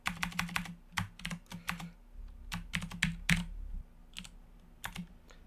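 Rapid clattering keystrokes on a computer keyboard come in quick bursts with short pauses, close and clear, with no talk.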